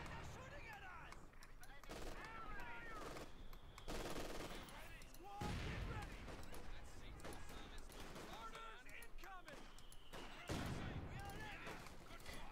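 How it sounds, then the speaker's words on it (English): Machine gun fire in the real-time strategy game Company of Heroes 2, crackling in rapid bursts amid layered battlefield gunfire and explosions, with a commentator talking over it throughout. "Quick machine gun move out there to deal with the flanking rifle"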